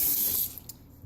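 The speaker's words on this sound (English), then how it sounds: "we're going to put about 10 cups of water in here" Tap water from a rural well is poured into a container for making pineapple vinegar, a brief close splashing rush that tapers off into a few faint drips.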